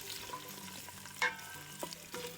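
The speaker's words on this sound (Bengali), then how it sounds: "তিন টেবিল চামচ পরিমাণ সরিষার তেল দিয়ে এর মধ্যে একশো গ্রাম পরিমাণ রসুন এবং পঞ্চাশ গ্রাম পরিমাণ আদা দিয়ে প্রথমে হালকা টেলে নেব" Garlic and ginger frying lightly in mustard oil, a steady low sizzle with a few louder crackles and stirring scrapes, close and continuous.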